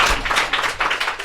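Short burst of clapping for a guest at the close of an interview segment of a French-language trail running podcast, a few quick, uneven claps from a small group close to the microphone.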